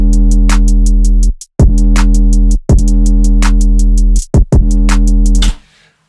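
A loud, deep, sustained 808 bass under a punchy kick drum, the bass ducking sharply at each kick from sidechain compression, with bright hi-hat ticks keeping a steady beat before everything drops away at the end.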